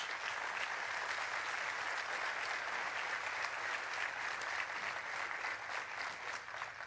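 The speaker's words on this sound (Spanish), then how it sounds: "Y yo doy un aplauso a Dios por ellos" A church congregation at Glenview Baptist Church applauds God: a steady, dense wash of many hands clapping, heard at a distance and fairly soft, which continues evenly for about seven seconds with no talk over it.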